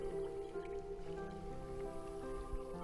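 Kayak paddling in open water near a pod of pilot whales, with a steady wash of water and soft splashy paddle strokes under a low, constant boat-and-wave rumble.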